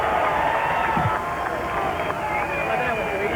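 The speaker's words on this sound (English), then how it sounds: "And listen to this crowd" Race crowd at Michigan International Speedway after an IROC win, a broad distant roar of cheering from the grandstands with a commentator talking over it.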